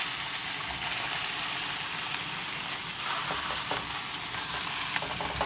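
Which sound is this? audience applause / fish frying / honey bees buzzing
fish frying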